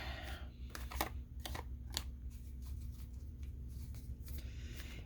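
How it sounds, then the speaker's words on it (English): Tarot cards are shuffled by hand in quick riffling and sliding bursts, soft and close, over a steady low background hum. "let me shuffle for a second here."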